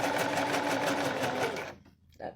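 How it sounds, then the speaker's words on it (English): An Empisal 120a dressmaker sewing machine stitches a zigzag with a fast, steady rhythmic chatter close by for under two seconds, then stops and leaves a brief quieter pause. "Always pull the thread at the back when you start sewing. Always. And then we just check that we're sewing correctly."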